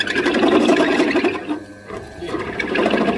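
A countersink bit grinds into metal on a Harley Road King chopper's forward controls, a rough whirring, squealing cut that dips briefly midway and then resumes, close and loud with no talk.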